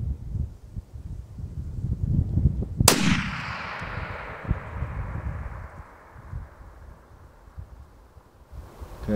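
A .338 Lapua Magnum rifle fires a single loud shot at long range outdoors, a sharp crack with a long rolling echo fading over several seconds amid gusty wind noise.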